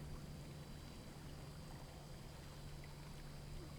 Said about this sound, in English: I think that was just water sound.